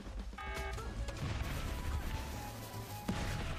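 Scatter-shot gunfire in the survival game Last Day on Earth, heard as a dense barrage of overlapping blasts and impacts that continues for the whole stretch, with a sharp louder hit near the end.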